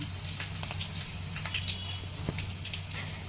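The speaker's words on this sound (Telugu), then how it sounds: "ఆయిల్ వేడైందండి. ఎల్లిపాయలు, జీలకర్ర," Onions and cumin frying in hot oil, a soft continuous sizzle with light crackles and pops over a low background hum.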